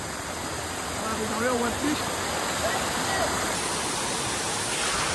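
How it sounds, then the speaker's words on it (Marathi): Steady, loud rush of a waterfall reached after an off-road ride, a broad continuous roar filling the whole clip with a few voices talking over it. "आता आलेलो आपण धबधब्यावर, वॉटरफॉल."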